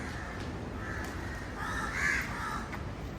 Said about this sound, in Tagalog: Ala, meron tumutunog-tunog dun. Oh, ano yun? Ibon?